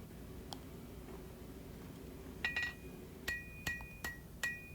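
A light hammer taps on a hand-forged hunter knife handle, evening out earlier hammer marks: a handful of sharp, ringing metallic strikes, spaced apart and close by, with a faint earlier tick against a quiet shop.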